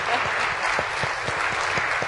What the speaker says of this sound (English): Go ahead, clap in them,